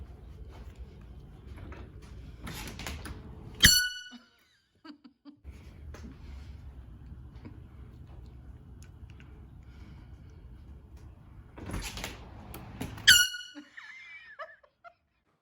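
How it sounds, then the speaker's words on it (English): Two loud, sharp horn blasts with a bright harmonic ring, spaced several seconds apart, each followed by laughter and chatter in the room. "One of my friends got me an air horn to enjoy for the holiday season."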